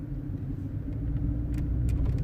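A Mercedes W203 C-Class with a gear-engagement fault, driving in sport mode, gives a steady low engine rumble from inside the cabin for a couple of seconds, with no distinct gear change.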